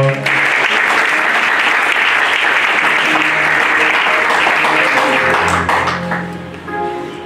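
A church congregation applauds the Lord during a service, with loud, dense, sustained clapping and cheering that fades toward the end.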